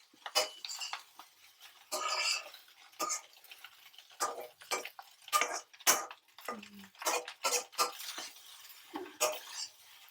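Egg fried rice is tossed and mixed in a pan with rapid, irregular scrapes and clinks of a utensil against metal, close and quiet, with light sizzling between strokes.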